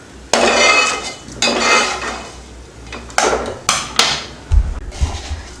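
Fried curry leaves being tipped into roasted masala for karuveppilai kulambu, giving a run of nearby clinks and scraping clatter of a utensil against a metal pan in several short bursts, with a low thud near the end.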